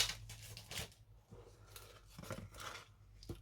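Foam tape for card making being peeled and snipped with scissors, close up, a few short rasping cuts and tearing strips in quick succession, with no talking.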